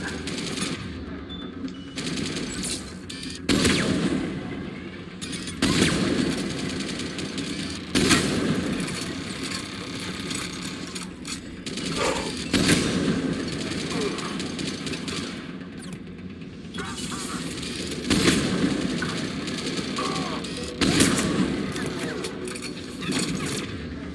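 Rapid bursts of turret gunfire and weapon fire in the Mass Effect 3 Legendary Edition video game, repeating in dense volleys throughout with game noise and a player talking over it.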